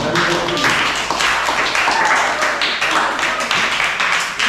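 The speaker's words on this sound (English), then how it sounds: "So that deserves another round of applause." An audience at a youth club public speaking competition gives a strong round of applause, dense and loud hand clapping that holds steady for several seconds close to the microphone.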